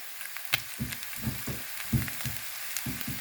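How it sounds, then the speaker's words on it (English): Sizzling and crackling of canned French fries frying in a pan, with a steady hiss and irregular louder pops and spatters, close by and without talk. "Canned French fries, frying in the pan."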